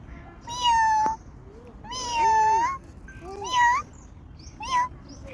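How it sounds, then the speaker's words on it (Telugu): A cat meows four times in a row, drawn-out calls with short pauses between, the last one brief, clear and close over a low steady background hum. "ఈ మియో మియో ఏందో"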